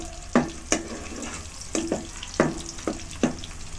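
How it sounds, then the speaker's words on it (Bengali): Crushed garlic frying in oil in a pan, a soft, steady sizzle broken by a handful of sharp taps and scrapes from stirring, close up with no voices. "এরপর সেই তেলের মধ্যে রসুন দিয়ে"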